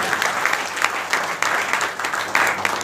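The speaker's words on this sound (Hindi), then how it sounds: "ताली बजाएं" Audience applause during a spiritual talk, steady, fairly loud clapping from a crowd in a hall, with individual claps standing out in an uneven rhythm and no talk over it.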